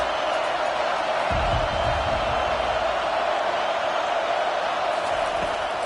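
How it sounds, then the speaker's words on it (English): Loud, constant roar of a football stadium crowd during a Kansas college game, a broad sustained wash of massed voices that swells briefly early on. "This crowd trying to make life miserable for this offense."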